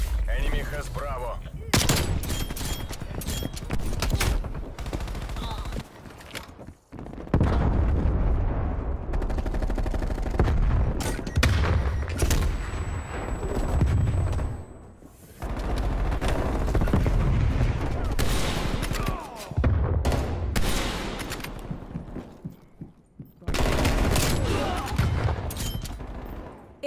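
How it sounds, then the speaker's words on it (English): Call of Duty Cold War battle with artillery strikes and bursts of automatic gunfire, loud repeated shots and heavy booms in clusters across the stretch, close and intense, with brief game voice callouts in places. "Detected. Artillery inbound."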